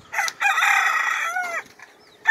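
A young gamecock rooster crowing once, loud and close, a long drawn-out call followed by short trailing clucks.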